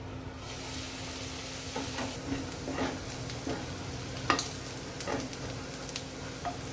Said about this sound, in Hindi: धीमी आंच पर 5 मिनट के लिए इसे छोड़ देते हैं पकने के लिए